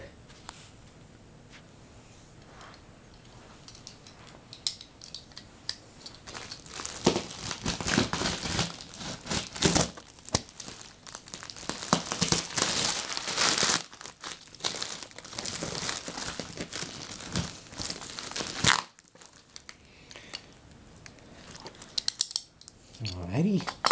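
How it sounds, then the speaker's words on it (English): Plastic and cardboard packaging around an antique Otis elevator floor indicator from Uruguay being slit open with a box cutter: close, irregular crinkling, scraping and tearing bursts that build in the middle and stop abruptly near the end. "Box cutter, packaging, and ready to open this up."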